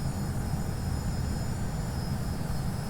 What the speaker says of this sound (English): I can hear a plane.